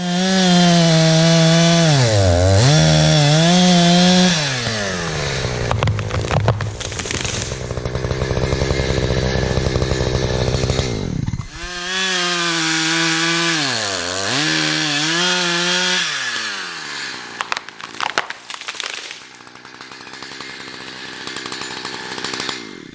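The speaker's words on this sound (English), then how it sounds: "So we'll jump back to the chainsaw and get her down." A loud chainsaw revs and bites into a pine tree at close range, the engine pitch rising and falling over two long cuts with a brief pause between them.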